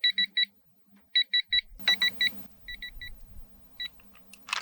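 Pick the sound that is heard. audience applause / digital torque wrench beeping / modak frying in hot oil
digital torque wrench beeping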